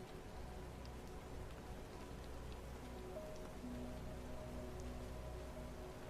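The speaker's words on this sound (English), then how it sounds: "The rain touches your coat in the gentlest way, soft as breath." Rain falling steadily at night in a city, a soft continuous patter of drops on surfaces with no gaps, quiet and even throughout, with no voices.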